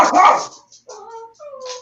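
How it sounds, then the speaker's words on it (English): A dog gives one sharp, loud bark close by, followed by two short high whimpering yips, all within about two seconds. "That was my dog."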